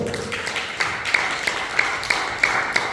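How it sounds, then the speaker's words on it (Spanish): A church congregation at an evangelistic sermon claps for Jesus in a steady, rhythmic beat, about three sharp claps per second, close and clear over a soft background murmur. "denle un fuerte aplauso a Jesús, por favor"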